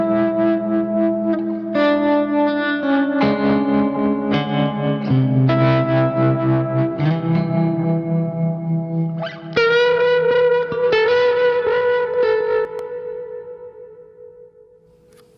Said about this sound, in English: There's plenty of delay, and that tremolo is in there, kind of pulsing arrhythmically in the track.